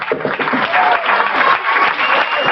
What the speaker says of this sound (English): Come on, I want to hear a massive cheer for this gentleman.